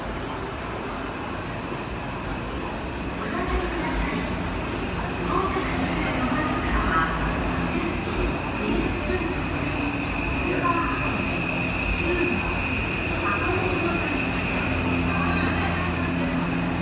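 An Odakyu MSE Super Hakone limited express train, running as a four-car set, rolls into a station platform with a steady rising rumble and wheel noise, and a person talks over it.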